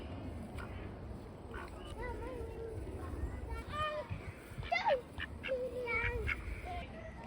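Farm ducks quack and honk in short, irregular calls at close range, scattered over a low background with a person talking softly nearby.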